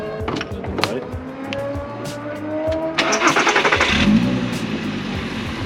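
Volkswagen Passat R36 with a 3.6-litre engine, heard close from inside: a low, calm engine rumble with scattered clicks and rattles, then a louder surge of rougher noise after a few seconds.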